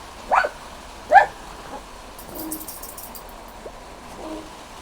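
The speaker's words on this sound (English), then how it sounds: "Feisty little dog." A feisty little dog barks twice in quick succession, close and sharp, indoors on a rainy day, followed by quieter shuffling and faint background noise.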